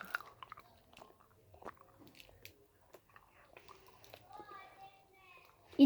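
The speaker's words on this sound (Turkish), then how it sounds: "Arkadaşlar ben şu kirazlı mor kaplı bir şey yiyeceğim" A child bites into and chews a cherry-flavored candy with a purple coating, close crunchy bites and soft squishy chewing at irregular intervals, with a voice making brief sounds between them.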